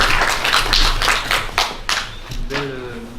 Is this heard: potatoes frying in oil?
no